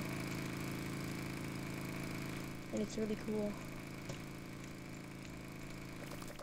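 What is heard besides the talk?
motorcycle engine in a video game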